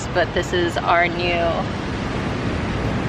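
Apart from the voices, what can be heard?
ocean waves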